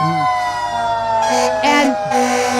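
A Brookfield Forest Fire truck sounds a wailing, rising and falling siren in a holiday parade of lights, loud and sustained, with a few crowd voices and cheers breaking in near the end.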